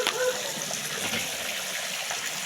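Running water from a supply line pours steadily into a container as it is collected indoors, a continuous close splashing gush that holds at an even level throughout.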